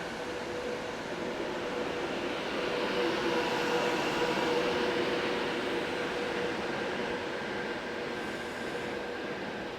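An Avanti West Coast Class 390 intercity train rumbles past in a steady, broad roar that holds for about ten seconds, with faint wheel tones running through it.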